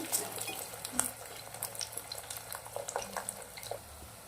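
Potatoes frying in oil give a quiet, steady sizzle with scattered small crackles and pops throughout, heard close and alone.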